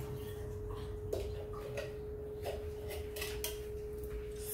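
A metal pan clinks and clatters in a quiet kitchen while mackerel is prepared for barbecue, a few faint, sharp knocks over a steady low hum.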